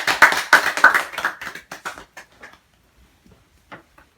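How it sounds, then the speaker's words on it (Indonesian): A classroom group claps in applause for group 2, with dense, loud hand claps that quickly thin out into a few scattered claps and then fade to near silence. "Mari kita beri aplaus untuk kelompok 2."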